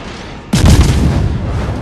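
Warship guns firing a salvo at the Königsberg in the naval game World of Warships, a single sudden heavy boom that rolls on into a long, loud rumbling decay.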